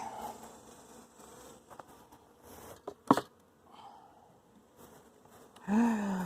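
Honey bees buzz softly around a hive during a swarm capture, a faint continuous drone with a sharp knock partway through and a louder burst of buzzing near the end.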